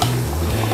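Brief scrape and clink of a utensil stirring squid in tomato sauce thickened with slurry in a pan, a single short stroke heard up close with no talking.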